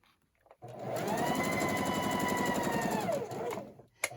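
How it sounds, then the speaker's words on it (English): Sewing machine stitching around the edge of an envelope pillow with a backstitch, a close, steady rapid whirring run of about three seconds that starts and stops abruptly, with no voice over it. "we're going to go all the way around, and when we reach that other corner, we're going to make sure to backstitch again"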